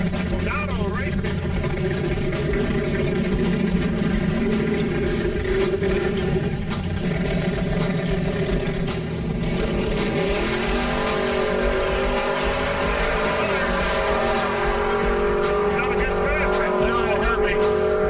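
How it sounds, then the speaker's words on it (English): Race cars in auto racing roar continuously at steady loudness for the whole stretch, engine tones shifting and climbing, with a brief dip midway and no clear voices. "Auto racing."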